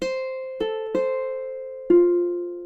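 A ukulele plays a short phrase, four plucked chords or notes with thumb filler, each ringing and decaying cleanly, close and alone in a quiet room.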